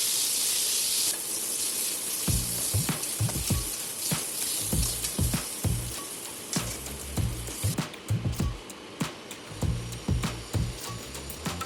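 Cut eggplant goes into hot oil in a wok for a Bengali shukto, giving an initial loud hiss that settles into a steady fizz, punctuated by a series of sharp clatters and knocks from stirring.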